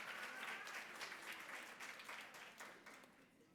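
Audience applause at a college reunion awards dinner, a dense, sustained wash of many hands clapping that fades slightly toward the end, with no voices over it.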